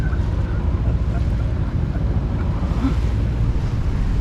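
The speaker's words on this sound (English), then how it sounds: "Coming out of the lee of the land, where the wind has become quite a bit more brisk." Brisk wind at sea on an old sailing boat motor sailing off the Kent coast near Margate, a loud steady roar of wind buffeting the microphone over the engine drone and water noise, with no speech.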